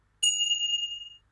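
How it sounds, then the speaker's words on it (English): A Carnatic metronome app sounds a manjira, small hand cymbals, in a single bright metallic ring that strikes sharply and decays over about a second in otherwise silence. "You can choose from a manjira"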